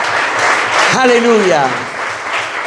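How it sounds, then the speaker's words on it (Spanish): A church congregation claps and cheers together during a worship service, a dense wash of applause that swells and fades across the whole moment while a preacher's voice rises over it. "Dale fuerte ese aplauso a Jesús"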